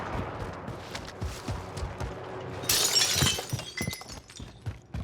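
Armor plate shattering during a Warzone firefight: a bright, sharp crack of breaking plating bursts out mid-clip over repeated nearby gunshots that keep popping before and after it.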